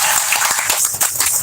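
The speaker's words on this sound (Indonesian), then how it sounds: "Oke, kalau sama tepuk tangan dulu." Dense, steady applause from an audience at a Christmas committee dissolution gathering in Siak, a continuous crackle of many hands clapping together at close range for the full length, with no voices above it.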